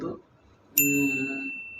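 A single bright bell ding serves as a notification chime for a subscribe reminder. It strikes sharply and rings on with a clear, slowly fading tone after a brief bit of quiet.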